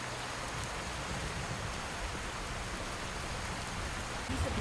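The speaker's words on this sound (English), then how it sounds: "There's that smell you get when it rains." Steady rain in the video game Skyrim, a soft continuous hiss of drops falling evenly throughout with no voices.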